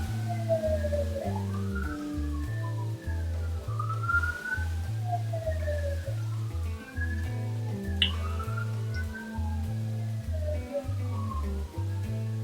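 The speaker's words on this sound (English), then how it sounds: "All the sirens going by." A wailing siren rises and falls repeatedly, steady and fairly loud, with a second pulsing tone underneath as emergency vehicles pass.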